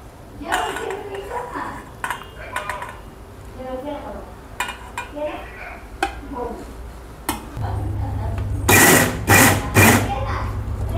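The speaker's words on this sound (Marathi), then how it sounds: "आता भात गार झालेला आहे, मी दळून घेते।" Mixer grinder grinding cooled cooked rice, a loud whirring motor rising in short bursts after quieter kitchen clatter and someone talking.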